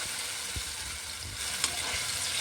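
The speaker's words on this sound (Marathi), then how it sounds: "आता हे पण या तेलामध्ये आपण टाकून देऊ चांगलं आपल्याला परतून घ्यायचं आहे" A quiet, even sizzle of onion, tomato, ginger and garlic paste frying in oil, with a few soft stirring scrapes and taps, close by and continuous.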